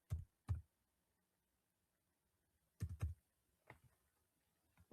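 A computer keyboard makes a few sparse, soft key taps in separate clusters, with quiet gaps between them.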